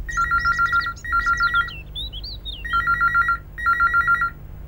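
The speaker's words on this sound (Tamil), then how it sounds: "ஃபோன் பண்றது ராஜீவா தான் இருக்கும்னு நினைக்கிறேன்." A telephone rings in bursts of rapid electronic trilling, four clear ring groups separated by short pauses, with faint chirpy tones between them and no talk.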